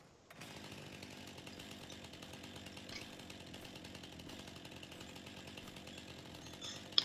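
Chainsaw cutting trees in the Farming Simulator 25 game, a faint, steady motor drone running for several seconds with no break, ending in a brief louder burst.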